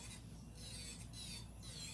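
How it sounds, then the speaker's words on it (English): Electric nail drill grinding down an acrylic nail to thin and slope it, a faint steady high whir with a soft rasping, continuous throughout. "So I'm just gonna drill a little bit more in this area here."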